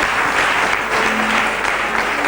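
A church congregation at a 2005 Daloa gathering applauds, a loud, dense, steady clapping that fills the whole moment without pause.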